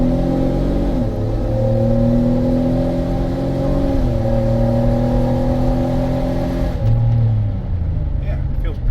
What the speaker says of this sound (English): I'm gonna just stop here and accelerate from a dead stop